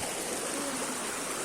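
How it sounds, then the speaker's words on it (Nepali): A mountain stream rushing close by, a dense steady roar of flowing water with no other sounds over it. "हामी चाहिँ अब फेरि अर्को खोलामा पस्यौं।"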